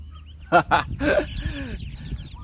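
A few short, high peeping calls from ducklings come in quick bursts, followed by a softer chirping trill, close and fairly loud against a quiet background.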